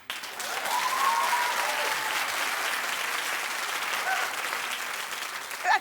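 Studio audience applause at a daytime television talk show, a steady sustained wash of clapping that holds evenly for several seconds and swells briefly at the end.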